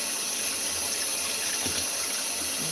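Steady rush of water pouring from a kitchen tap into a sink while meat is rinsed for cooking, continuous and fairly loud with no voices.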